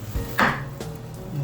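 A kitchen knife cuts down through an onion on a cutting board, making one sharp crunching chop followed by a fainter second tap, close and quiet, with no talking.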